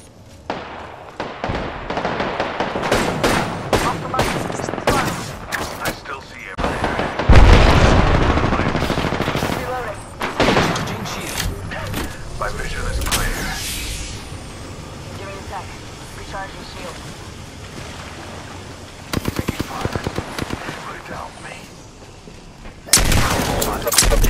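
Apex Legends gunfire on PS4 Pro, with loud repeated bursts of automatic shots and cracks clustered at the start, around the middle and at the end, mixed with in-game voice callouts.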